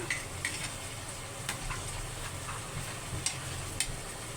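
Beef sautéing in a pan, a low constant sizzle and bubbling beneath occasional spoon clicks and scrapes against the pan, fairly close.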